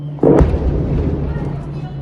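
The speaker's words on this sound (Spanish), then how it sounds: "Segundos después vino la primera explosión." A single sudden explosion in Caracas booms and then rumbles away into a lingering low roar, with a steady hum underneath.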